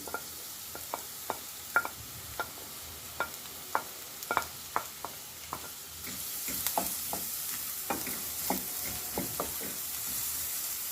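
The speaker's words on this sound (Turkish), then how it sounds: "Şimdi içerisine bir adet ince doğradığım soğanları ekliyorum." Soft sizzling of finely chopped onions frying in oil in a pan, with repeated scraping knocks of a utensil stirring, the frying growing louder and denser partway through.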